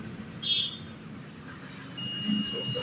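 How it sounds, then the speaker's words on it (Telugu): A circuit tester buzzes across a shorted selector switch from an Ahuja SSA-250M box speaker, giving a short faint beep, then a longer steady tone, in a quiet room. "ఇలా బజర్ సౌండ్ వస్తుందంటే అర్థం ఏంటంటే ఇది షార్ట్ అయిందని అర్థం."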